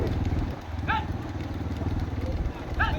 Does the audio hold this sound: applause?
no